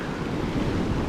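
Stormy sea surf rolls in steadily at Yalta in winter, a dense continuous roar of breaking waves mixed with wind buffeting the microphone, with no voices.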